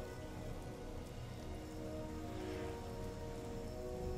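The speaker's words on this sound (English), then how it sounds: "And the rain doesn't even create ripples, but that's fine." Steady rain falls in the video game Ratchet & Clank (2016), a dense even patter of drops on surfaces that holds at constant loudness throughout, with no voices.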